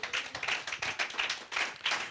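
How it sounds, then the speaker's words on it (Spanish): Church congregation clapping together in a steady rhythmic beat, roughly three claps per second, close and lively, with no talk over it. "Den un aplauso a How Dios."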